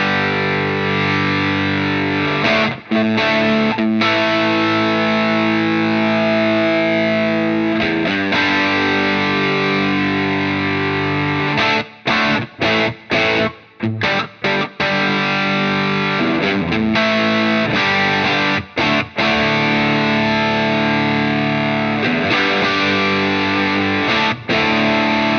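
An electric guitar with mild overdrive, played through a Wampler Ego 76 compressor pedal, rings out in sustained, thick chords and phrases, with only brief gaps between strums and no voice over it.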